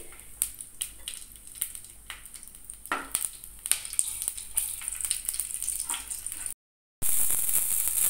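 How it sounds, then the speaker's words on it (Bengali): Nigella seeds and green chillies tempering in hot mustard oil, a steady bright sizzle with crackling pops throughout, briefly cutting out near the end before resuming loudly. "এই ফোড়নটাকে একটু ভালো করে ভেজে নিতে হবে"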